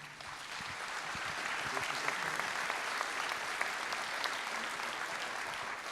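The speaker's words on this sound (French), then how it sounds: "On vous applaudit." An audience at a business awards ceremony applauds a prize-winning company, with steady, even clapping from a sizeable crowd that carries on without a break and has no voices over it.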